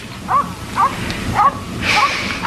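A dog outdoors gives a run of five or six sharp, yipping barks at a steady pace, somewhat muffled and at a moderate distance.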